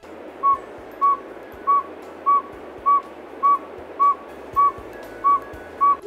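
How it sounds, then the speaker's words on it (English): A saw-whet owl gives its tooting call, ten evenly spaced single whistled notes at about two per second, clear and steady over a soft hiss of background noise, with no talking. "The saw-whet owl, doesn't hoot as well. He has another unique sound."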